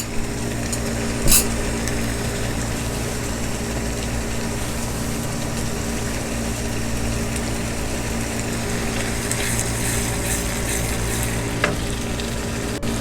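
Steady sizzling and crackling of onions lightly frying in a pan for chicken curry, continuous and fairly loud throughout, with an occasional clink of a utensil.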